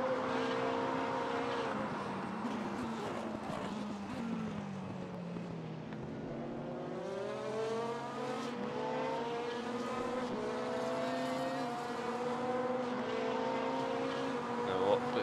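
GT race cars, a BMW M8 and a Ford GT, roar in a sim racing game, their engine notes whining and sweeping up and down in pitch as they accelerate and shift, loud and continuous throughout.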